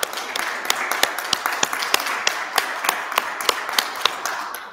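A small seminar audience claps in a sparse, uneven round of applause, individual sharp claps standing out distinctly over a soft background, moderately near and fairly quiet.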